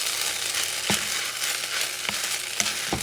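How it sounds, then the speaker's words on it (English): Coconut jasmine rice gets a brief stir in a covered pot, a steady soft sizzle broken by a few scraping spoon strokes, close and alone without talk. "About a minute or so later, another quick stir."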